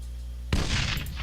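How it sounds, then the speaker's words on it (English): A sudden loud blast from a grenade explosion in Arma 3 breaks a quiet lull, followed by a rolling, crackling burst of combat noise that trails off. "they're throwing grenades at us though"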